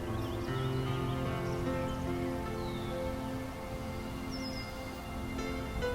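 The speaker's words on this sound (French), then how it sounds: "les oiseaux" Birdsong rises faintly out of a steady outdoor nature ambience, with a few short chirps and one clear whistled call heard at a distance over a continuous soft wash of background sound.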